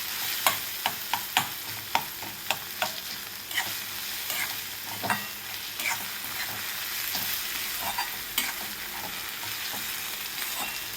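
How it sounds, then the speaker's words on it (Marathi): Onion and tomato fried together in a pan for paneer bhurji: a continuous close sizzle, with regular sharp taps and scrapes of a spoon stirring through it. "कांदा आणि टोमॅटो मऊ होईपर्यंत भाजून घ्यायचं आहे व्यवस्थित."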